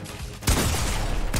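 Gunfire in the video game Fortnite, a brief burst of loud close shots after a short lull, with another burst starting at the end.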